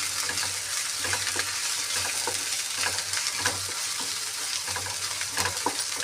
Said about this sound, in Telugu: ఫ్రై కావాలి మంచిగా అల్లం వెల్లిగడ్డ